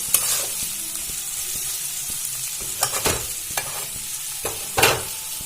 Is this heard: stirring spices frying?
yes